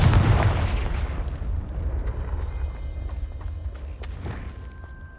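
A Confringo fire spell blasts in Hogwarts Legacy, a loud booming burst up front that rumbles and fades into a low sustained roar, with a faint whoosh near the end.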